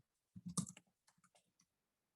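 A few quiet mouse clicks and faint clattering taps sound close up while a Cricut project is being saved, a short cluster of light clicks followed by scattered softer ones.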